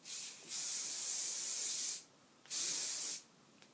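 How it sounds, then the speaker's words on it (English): Two long bursts of aerosol hairspray hiss out close to the mic, separated by a short pause, with a brief spritz at the very start. "all I do is I get some hairspray"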